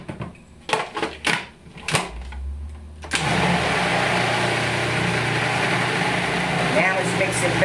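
An electric mixer starts up and runs steadily through thick almond muffin batter, a continuous motor whir after a few clunks and knocks, close and fairly loud with no talk.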